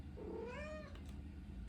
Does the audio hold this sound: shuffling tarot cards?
no